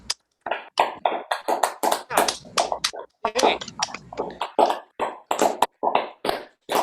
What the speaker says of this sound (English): we can all unmute, I think, and give all our readers some applause